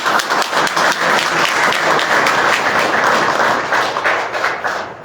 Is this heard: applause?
yes